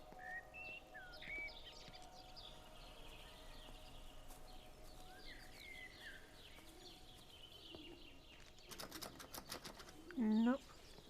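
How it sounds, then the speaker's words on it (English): Pigeons coo softly in the rural English village of Everybody's Gone to the Rapture, scattered faint calls and chirps over quiet ambience, with a brief flutter of wings and a louder call near the end. "do we still have bird noises?"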